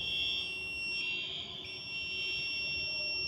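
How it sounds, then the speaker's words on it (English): A fire alarm panel buzzer, set off from a simulated manual call point, sounds a steady high-pitched electronic tone that holds continuously and loudly throughout. "So I press the enter to generate an alarm"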